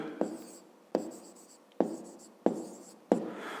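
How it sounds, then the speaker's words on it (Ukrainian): Pen strokes on paper during a fifth-grade maths lesson: five distinct, close writing scratches in an irregular rhythm, each starting with a sharp tap and trailing off, with no talk. "Записуємо тоді."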